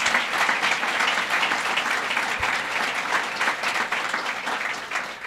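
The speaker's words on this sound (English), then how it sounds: "Give her a round of applause, Senator Betty Little" Sustained applause from a large crowd at a governor's announcement at a hospital, dense and even clapping that continues throughout without pause.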